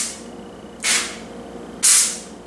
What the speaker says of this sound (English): They took the aerosol out of this cooking spray